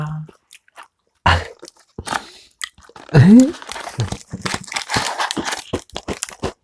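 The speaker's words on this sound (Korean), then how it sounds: "저는 롯데 샌드 좋아해요. 뭐 먹어볼게요." Crunchy Lotte Sand biscuits are bitten and chewed in a series of close, crisp crunches with pauses between bites, while voices talk nearby.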